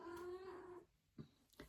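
Pet cat named Nounette giving one drawn-out meow close by, then two short soft chirps after a pause, indoors and quiet.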